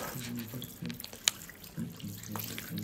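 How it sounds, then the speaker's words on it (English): Tap water runs into a sink as hands are lathered and rinsed before making pizza dough, a close splashing rush broken by drips and a sharp clink, with a voice and background sounds around it. "wash your hands, please, for about 20 seconds"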